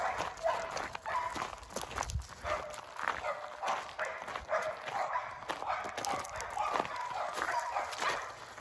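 Several dogs on chains barking outdoors, their barks in repeated bursts mixed with footsteps and a voice talking in the background.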